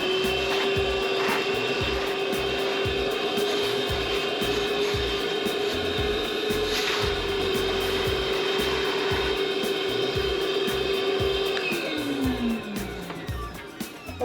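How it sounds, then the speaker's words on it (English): A vacuum cleaner runs steadily and close up with a constant motor whine on a deck-leveling job, then winds down near the end. "Let's do the vacuum cleaner."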